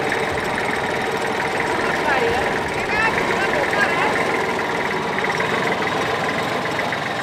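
A tractor engine idling with a steady low rumble and rattle throughout, while people talk over it.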